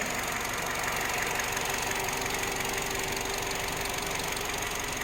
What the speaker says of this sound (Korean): 차 엔진 소리 너무 깔끔합니다.